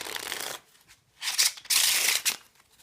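A deck of playing cards is shuffled up close: a crisp riffling burst, a short pause, then a longer, louder riffle that ends with the cards settling.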